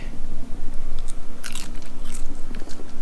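Crisp deep-fried basil leaves are bitten and chewed up close, a run of sharp crackling crunches over about three seconds, loud and dry with no talking.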